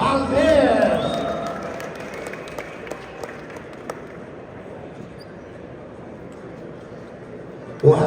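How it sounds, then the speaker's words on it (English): A crowd at a boxing fan expo in Las Vegas applauds boxer Oscar Valdez, with a burst of clapping and cheering near the start that fades into a quieter murmur of isolated claps and chatter. "give another round of applause"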